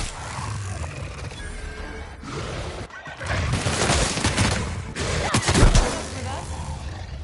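Rapid video-game gunfire bursts in a combat exchange from The Outer Worlds, with booming volleys swelling in the middle and later moments over a noisy battle background.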